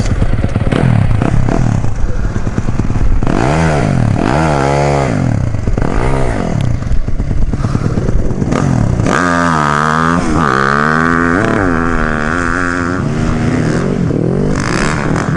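A Husqvarna 450 FE motorcycle engine revving close up, loud and continuous, with repeated throttle blips rising and falling in pitch, then a longer sustained high rev with mechanical clatter underneath.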